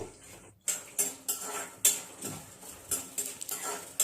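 Urad dal, chana dal, cashews and peanuts fried in a pan and stirred with a metal spoon, sharp clinks and scrapes coming in an uneven rhythm over a low sizzle, close and without talk.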